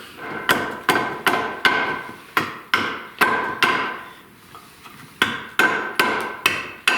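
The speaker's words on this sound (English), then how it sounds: "you get a nice drywall hammer. Preferably one with a loose handle" Steady, forceful drywall hammer blows on wood, about two per second, with a short pause midway before the rhythmic striking resumes; work on a whitetail deer backpack mount.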